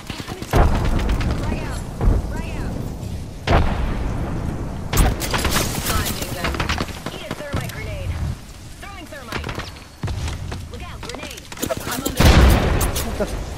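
Machine gunfire in a shooter video game rattles in loud bursts and booms across the stretch, with someone talking over the shooting throughout.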